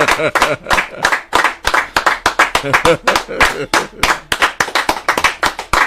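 A crowd claps in uneven bursts at a Yoruba gathering, sharp slaps scattered across the whole stretch with voices mixed in, close and fairly loud.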